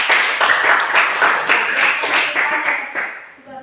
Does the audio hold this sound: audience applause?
yes